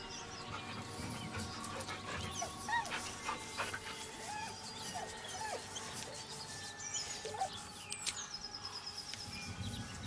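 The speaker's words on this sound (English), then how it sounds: "The dog whimpers nervously," A dog in Baldur's Gate 3 whimpers and yips nervously in soft, repeated whines over a quiet ambient game backdrop with faint bird calls.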